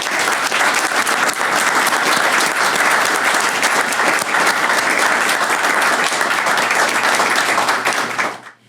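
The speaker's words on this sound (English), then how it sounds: "Please give them a round of applause." Sustained loud audience applause at a veterans recognition breakfast, dense steady clapping filling the room for about eight seconds before cutting off abruptly at the end.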